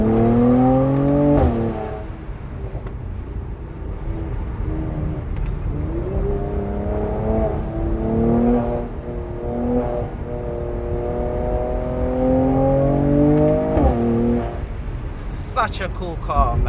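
A 2019 Mercedes-AMG C43 with all-wheel drive pulls out of curves on a scenic mountain road, its engine rising in repeated revving sweeps under the driver's ongoing talk, with gear-change dips between pulls.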